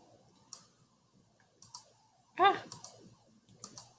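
Computer mouse clicks sound as a handful of sharp, close taps spread irregularly over a few seconds, with one louder burst near the middle, in an otherwise quiet room and with no talking.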